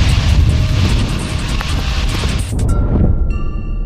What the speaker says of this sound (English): It's the one-of-a-kind Antonov 225.